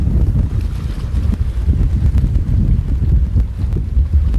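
Strong wind blows across a fishing boat at sea during cuttlefish fishing off Goheung, a continuous heavy low rumble and buffeting against the microphone with no other sounds standing out.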